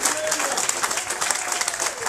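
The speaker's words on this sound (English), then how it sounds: "Y'all give in, you big old hand clap." A church congregation breaks into hearty hand clapping, a close, dense burst of many hands with uneven pulses and faint voices mixed in.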